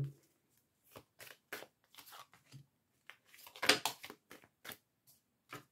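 Tarot cards are shuffled by hand for a nine-card reading, giving a run of crisp, papery riffles and slaps in short bursts with quiet gaps between them, close and fairly soft.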